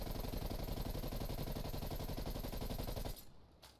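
Assault rifle gunfire in Black Ops Cold War: a loud, continuous stream of rapid automatic shots that cuts off abruptly near the end, leaving a faint click.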